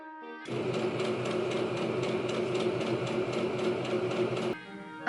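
Sewing machine stitching down fabric strips on a Victorian chemise, one steady continuous run of rapid needle rhythm lasting about four seconds, close and clear, starting and stopping abruptly.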